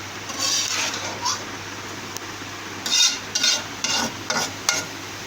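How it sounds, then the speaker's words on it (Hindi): Chicken macaroni seasoned with black pepper is stirred in a hot pan, with a steady sizzle of frying beneath and repeated scraping, swishing strokes that come in bursts, near and fairly loud, with no talking. "उसके बाद हम इसको थोड़ा सा हिलाएंगे।"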